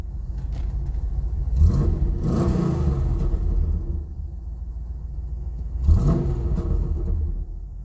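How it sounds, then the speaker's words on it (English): A cold-running 1996 Pontiac Firebird Formula with a V8 and six-speed gets two sharp throttle blips, each a loud, deep surge that rises and falls back to a low, lumpy rumbling idle, recorded close with no talking. "we'll give it a few blips of the throttle"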